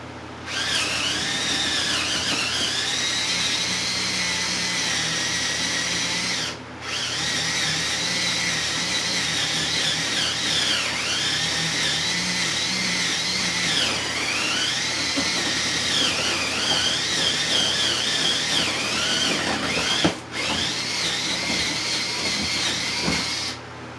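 A power drill bores a hole down through a kitchen floor, a steady, loud motor whine with shifting pitch that runs continuously, broken by two brief stops, with no talking.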